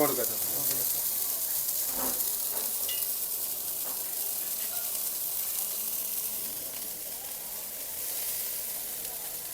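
Chilli chicken fries at a busy food stall, a loud, continuous sizzle and hiss with occasional metallic stirring clanks, and faint voices in the background.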